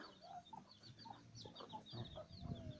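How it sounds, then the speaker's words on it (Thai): Chickens cluck and murmur steadily at moderate distance, with scattered calls overlapping in a busy farmyard chorus. "ก็มีไก่ดำ"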